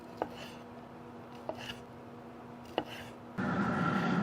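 Knife chopping beer brats into bite-size pieces on a board, three separate crisp cuts spaced over a quiet background, followed by a sudden steady hiss of liquid coming to a simmer.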